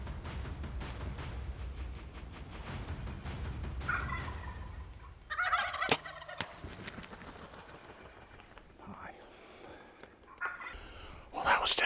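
Wild turkeys gobble in spring woodland in Oregon during a bowhunt near decoys, a few bursts rising out of faint outdoor background, with rustling and footfalls in between.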